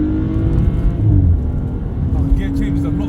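A tuned Stage 2+ BMW 335i E92 accelerating hard, its engine droning loud and steady from inside the cabin throughout, with people talking over it.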